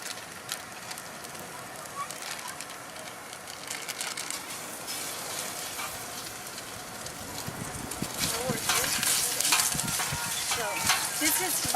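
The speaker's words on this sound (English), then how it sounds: "This is mild Italian sausage, and we're adding it to give another depth of flavor." Mild Italian sausage sizzling in a paella pan: a steady crackling hiss with stirring scrapes that grows louder and busier toward the end, while someone talks.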